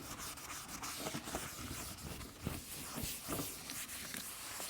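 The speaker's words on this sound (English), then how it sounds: "just grabbing a bit of degreaser, going to wipe the old bumper down" Cloth rubbing degreaser over an old Vauxhall Meriva A bumper mid-repair, a steady close scrubbing and swishing texture with a few brief louder strokes, no talking.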